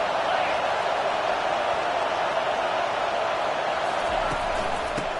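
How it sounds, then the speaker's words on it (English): A loud, steady wash of crowd noise fills a large indoor arena at a college basketball game, constant roar without pauses, with a faint thump near the end. "This crowd bringing the energy and noise early."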